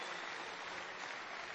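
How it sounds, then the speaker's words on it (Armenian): Spectators at a women's boxing bout applaud in a steady, dense wash of clapping that holds evenly throughout, with no voices standing out above it. "մարզասերներն է ծափարեցին"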